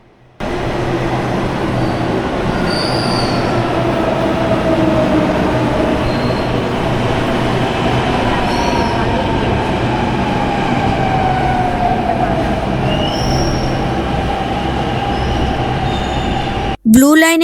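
A Delhi Metro Blue Line train rumbles loud and close in a long, steady roar, with faint high wheel squeals drifting over it and a sharp rise right at the end.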